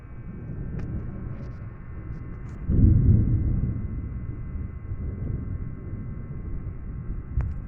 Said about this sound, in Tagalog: Ang sama ng panahon guys, umuulan, tapos kumukulog.